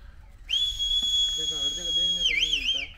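A loud, sustained, high whistle calls cows to come running. It holds one steady tone and then ends in a warbling trill, while a voice speaks softly underneath.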